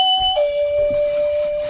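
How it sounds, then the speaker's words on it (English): A shop doorbell rings clear and loud as an electronic chime, stepping from a higher tone down to a lower one that then holds steady, with no talking. "this doorbell ringing sound, that you get here, this is soon going to become a thing of the past"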